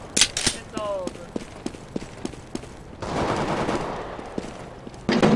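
Gunfire in a multiplayer shooter game: sharp shots crack in an irregular rhythm, with a denser stretch of rapid fire in the middle and another burst at the end. A brief voice is heard.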